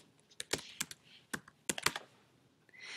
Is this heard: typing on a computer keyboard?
yes